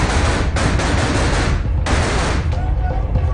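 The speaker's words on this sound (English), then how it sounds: "They invited me to go through their shoot house with live fire." Live gunfire inside a shoot house during a close-quarters training run, a loud, nearly continuous burst of rapid shots echoing in enclosed rooms, with a few distinct sharp cracks standing out.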